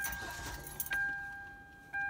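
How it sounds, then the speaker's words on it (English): A car being unlocked with keys: a brief jingle of keys, then two short electronic chirps from the lock, close by and clear over a quiet background. "Let's unlock this car, and let's go for a test drive."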